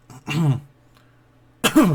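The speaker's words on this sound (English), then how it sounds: "clearing my throat" A man clears his throat twice, two short voiced rasps separated by a brief pause, close and fairly loud.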